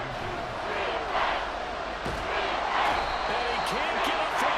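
Stadium crowd at a Steelers versus Falcons American football game roaring loudly to force a false start, a dense sustained wall of cheering and yelling with scattered shouts and thumps throughout.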